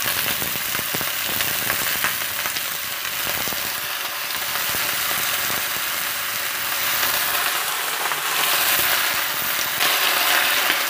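Garlic scapes fry in cooking oil over high heat for a Korean braised side dish, giving a dense, continuous hiss and crackle, close and loud throughout with no speech.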